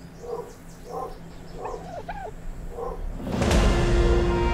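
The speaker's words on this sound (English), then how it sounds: "And my dogs are barking." Dogs in ARK: Survival Evolved bark in a short, evenly spaced series of four or five calls at moderate loudness, followed by a sudden burst of broad, hissing game noise.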